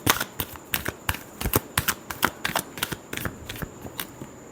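Tarot cards are shuffled by hand in a string of crisp, quick riffling bursts and slaps, close and fairly loud, with no talking.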